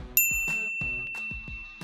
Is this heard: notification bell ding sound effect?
yes